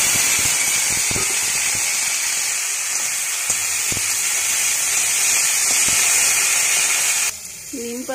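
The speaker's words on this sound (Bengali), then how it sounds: "আবারও তেল দিয়ে দিয়েছি, একটু নুন হলুদ অ্যাড করে দিলাম, নিম পাতাটা ছেড়ে দিলাম" Neem leaves frying in hot oil with salt and turmeric, a loud steady sizzle and hiss that carries on for several seconds with a few faint knocks, then drops away abruptly near the end.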